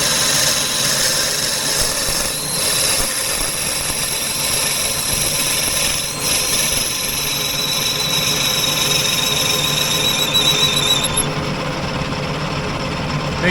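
A drill bores into brass on a manual machine to prepare a hole for a 1/8 NPT thread, giving a loud continuous whirring and grinding drone with a steady high whine that stops near the end, with no talk.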